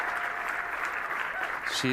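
Brief, steady applause from the audience at the women's 8-ball world championship pool final, a brief wash of clapping with a voice speaking over it near the end.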